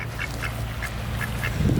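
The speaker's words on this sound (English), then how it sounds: "We got this duck walking over us" A duck quacking at a cemetery near a crypt, a series of about seven short, evenly spaced quacks, close and moderately loud over outdoor background noise.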